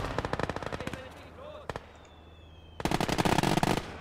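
Rapid bursts of submachine gun fire from the World War II strategy game Gates of Hell: Ostfront rattle close and loud, with a short pause and distant shots in the middle before a dense final burst.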